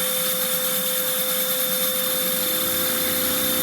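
A Lego 6000rpm one-cylinder vacuum engine runs with a loud, steady high-pitched whine and a dense buzzing hum, constant throughout and close, with no talk.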